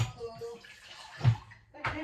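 Water is poured into a vessel while a ginger drink is prepared at home, giving short splashing gushes with a brief pause between them, close and fairly quiet.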